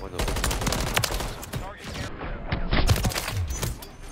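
Rapid automatic gunfire in a Call of Duty match, close and loud sustained bursts with brief gaps, mixed with talk from a player.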